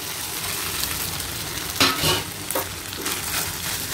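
Paneer Schezwan mixture and white rice stir-fried together in a pan, giving a steady close sizzle with a few louder scraping stirs, no talking.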